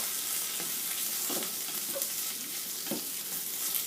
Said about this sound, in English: So we're going to get them all coated in the olive oil.